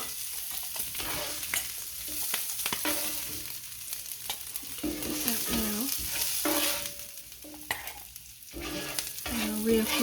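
Eggs for an omelette sizzle and fry in a cast-iron skillet with a steady crackle, punctuated by intermittent scraping and stirring knocks, close and fairly loud with no talking.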